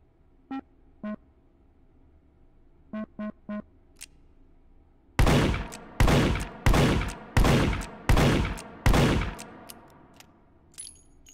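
Gunfire at a close-range target in the VR game Hot Dogs, Horseshoes & Hand Grenades: a few faint metallic pings, then six loud, evenly spaced booming shots with ringing decay.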